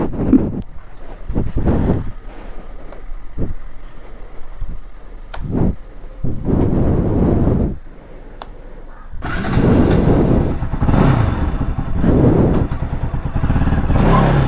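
A Bajaj NS200 motorcycle fitted with a Dominar USD front fork pulls away on a first ride, its engine note coming in loud bursts and revs under heavy wind buffeting on the microphone.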